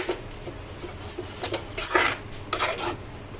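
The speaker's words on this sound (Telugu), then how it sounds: "ఎగ్ బాగా కలుస్తుంది." A utensil clinks and scrapes against a bowl while beaten egg and chopped vegetables are stirred together, in repeated close strokes with no speech.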